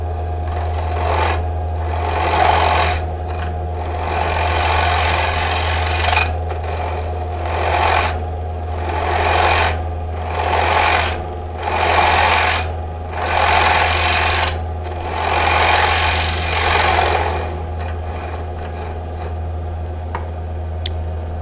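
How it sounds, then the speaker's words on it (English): A negative rake scraper works polymer clay turning on a lathe, the motor's steady hum running underneath a series of rhythmic scraping bursts that swell and fade as the tool passes over the spinning piece. "use a scraper to clean that up, a negative rake scraper"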